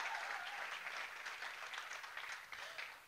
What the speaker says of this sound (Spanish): Denle otro aplauso a Dios porque va a cambiar.